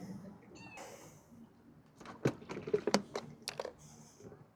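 A cat at a shoreline fishing spot in Kartal, Istanbul, where horse mackerel are being caught, meows briefly and fairly softly near the start. Clicking and rattling handling noises follow, along with faint voices.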